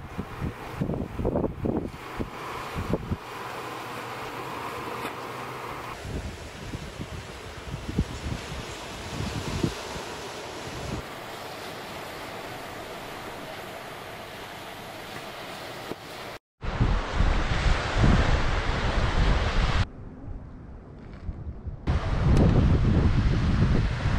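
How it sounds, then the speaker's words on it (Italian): Strong wind roars and buffets the microphone continuously on a wide beach, with rumbling gusts and a brief cut partway through, then louder blustering near the end. "Un vento così non è che lo trovate da tutte le parti."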